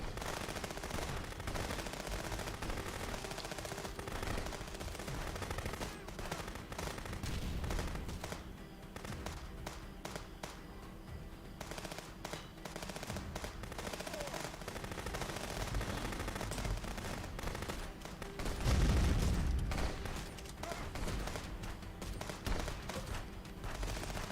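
Gunfire in the video game Contraband Police, dense bursts of automatic fire running steadily through a chaotic firefight, loud and continuous with a heavier blast near the end.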